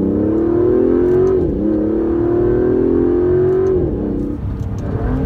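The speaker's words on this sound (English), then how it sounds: "if you really floor it, you can feel the turbos kick on" A 2017 Aston Martin DB11 with turbos is floored at full throttle, its engine note loud and close, rising in pitch through the revs, dropping briefly at a shift, then climbing again.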